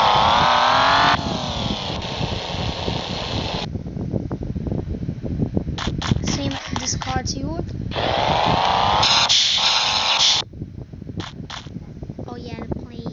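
A hot rod car engine in a video game revs in long rising and falling bursts, loud and close, separated by stretches of choppy mechanical rattling.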